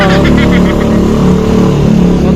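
A motorcycle engine runs loud and close throughout, with a steady, continuous rumble and slight revving swells, while people talk over it.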